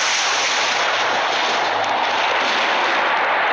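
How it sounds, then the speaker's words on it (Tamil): Thunder from a thunderstorm in the Roblox Natural Disasters video game, a loud, sustained broadband roar and crackle with no break, filling the whole stretch with nobody talking. "Thunder ஸ்டாமாங்க guys."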